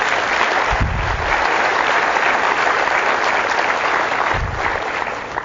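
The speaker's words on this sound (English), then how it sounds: "Give them a round of applause" An audience claps continuously at a business presentation, a loud, even roar of many hands with a couple of low thumps breaking through.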